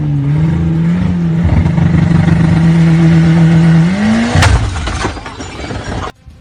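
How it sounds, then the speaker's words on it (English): Heavily modified car engine revving hard during a launch-control attempt, a loud sustained high-pitched drone that climbs in pitch, then a sudden sharp crack and clatter as it fails, tailing off before cutting out. "this guy was trying to show off with a launch control of his crazy engine mods on his cars to his friends"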